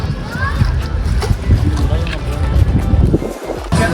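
A speed boat motors across water near Kochi with wind buffeting the microphone and splashing, while voices talk over the engine noise.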